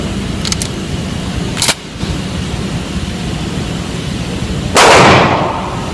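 Shotgun shots at close range, two sharp loud blasts about three seconds apart, the second followed by a broad decaying roar, over steady outdoor noise with no talking.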